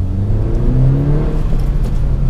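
A 2017 Honda Civic Si turbocharged engine under light throttle, a steady rising hum building smoothly from inside the car, loud and continuous without speech.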